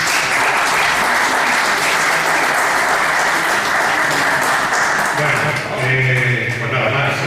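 A lecture audience gives a loud, sustained round of applause for a civil law professor, dense clapping filling the room throughout and thinning slightly near the end.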